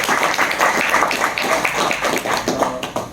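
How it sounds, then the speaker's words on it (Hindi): Loud applause for the nation's soldiers fills the room, dense overlapping claps from a crowd sustained throughout with no talk over it. "तो एक बार जोरदार तालियां उन सभी लोग"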